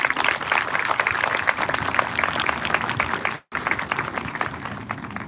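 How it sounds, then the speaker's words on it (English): Graduation audience applauding staff and teachers, a dense, steady round of clapping from a large crowd, briefly cut by a moment of silence before resuming. "Let's give them a round of applause as a thank you."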